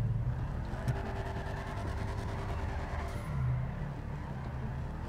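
Chevrolet Camaro in GTA V, engine droning at a steady moderate level as it drives along, with a brief swell in revs near the middle and no talking.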